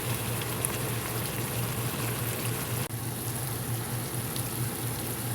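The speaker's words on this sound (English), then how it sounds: "Let the onions saute." Onions sauté in a pan with a quiet, steady sizzle. The hiss is continuous and even, with no voices.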